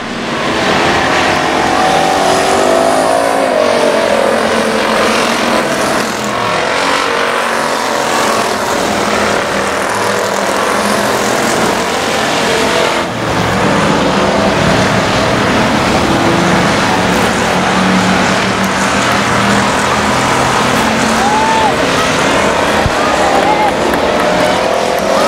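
Race cars on the final lap at I-37 Speedway, engines roaring continuously and fairly loud as they pass, with a track announcer talking over the din throughout.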